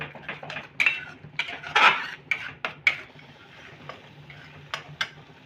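A spoon clinks and scrapes against a pan while chilli chutney for paneer momos is stirred, with irregular close metallic taps and rasps and no talking.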